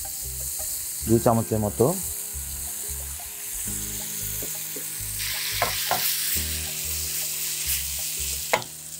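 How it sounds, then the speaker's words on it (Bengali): Chicken sizzles steadily in a hot pan with soy sauce added, a constant close frying hiss with occasional stirring scrapes, while someone speaks briefly. "চিকেনটা একটু ভেজে নিলাম আমরা, এখন আমি সয়া সস দিয়ে দিব"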